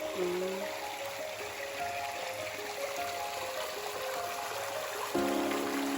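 Water trickles steadily from a rural stream while it is fetched at night, a continuous soft babble with low voices faintly underneath.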